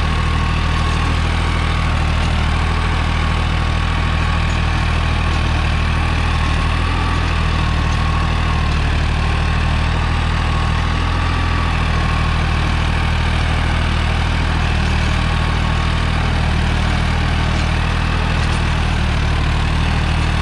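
A New Holland 3630 Plus tractor diesel engine, fitted with an 8-foot rotavator, idles close by with a steady low rumble and constant drone that stays even and unbroken throughout.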